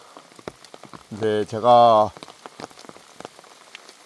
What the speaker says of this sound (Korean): 오늘이 6월 8일 차분하게 비가 내리고 있습니다.